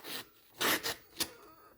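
A dull Henckels kitchen knife drags and tears through paper in a few short, rough rasping strokes, close and fairly quiet with brief pauses between them.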